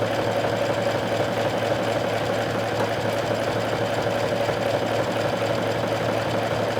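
A sewing machine runs an overcasting stitch at width 5, length 3 and tension 4, a steady close mechanical whirr with fast rhythmic needle ticking that never pauses, with no voices.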